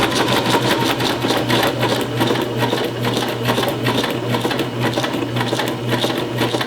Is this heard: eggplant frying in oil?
no